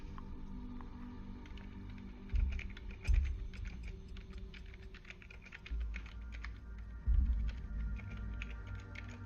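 Computer keyboard typing during a live World of Warships game stream, a steady run of quick key clicks with a few heavier thumps, fairly close and continuing throughout with no talking.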